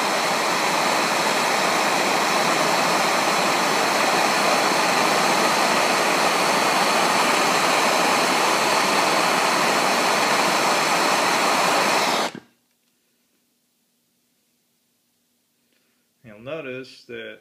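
A flame firing a small porous ceramic wick shaped to about 1/8 inch diameter gives a steady, loud roaring hiss that holds for about twelve seconds, then cuts off abruptly into near silence before a brief voice speaks.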